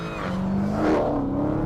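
A Dodge Challenger SRT Hellcat with its supercharged 6.2 litre Hemi V8 revs up and falls back, a loud close engine note with a rising whine.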